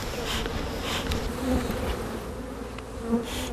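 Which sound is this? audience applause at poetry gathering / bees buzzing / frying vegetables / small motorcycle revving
bees buzzing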